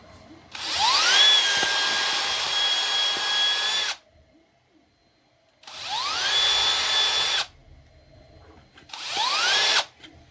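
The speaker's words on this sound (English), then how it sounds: "and just drill it through." A high-pitched power drill whines in three long runs, each several seconds, drilling through a toy truck wheel, separated by short silent pauses; close and loud, with no talking.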